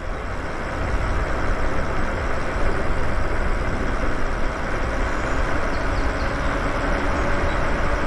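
A 1000-watt e-bike motor runs at full throttle while riding outdoors, giving a continuous loud rush dominated by wind and road noise, with no breaks.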